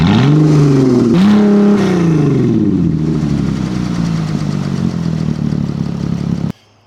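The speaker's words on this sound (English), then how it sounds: "rev limiter is what we're hitting right now" A cheap, neglected Porsche 911 with a check engine light and an exhaust full of junk revs hard up to its rev limiter. Two loud rising pulls come close up, then the revs fall back toward idle before the engine cuts off abruptly.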